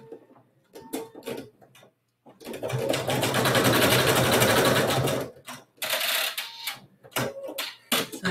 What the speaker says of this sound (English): this is just my single needle domestic sewing machine